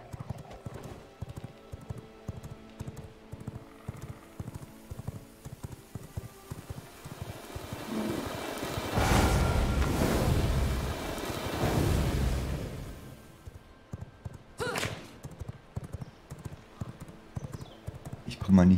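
Horse hooves clip-clop in a rapid, continuous rhythm in V Rising, with a surge of heavier hoofbeats midway, while people talk over them throughout.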